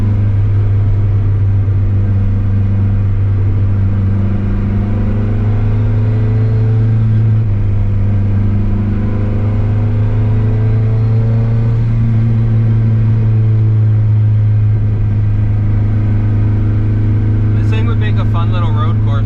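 A loud turbocharged Honda Civic engine revs in a sustained, droning roar that climbs and settles in pitch, with a brief rattling burst near the end.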